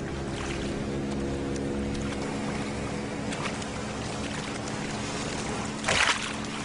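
A motorboat engine drones steadily on the water with a low continuous hum, a brief splash or whoosh rising near the end.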